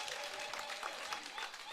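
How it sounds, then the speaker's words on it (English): Party audience at an NRM members' register launch applauds briefly, a faint, distant wash of clapping from a large crowd. "May we clap as party to appreciate."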